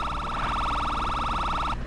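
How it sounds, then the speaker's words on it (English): A police car siren in Garry's Mod wails in a fast, steady warble, loud and close, then cuts off abruptly near the end. "I forget how you turn on the sirens."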